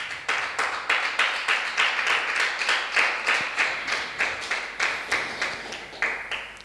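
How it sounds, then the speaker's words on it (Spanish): A church congregation claps in unison, a steady rhythmic beat of roughly three claps per second, moderately distant and sustained throughout. "Damos un aplauso al Señor"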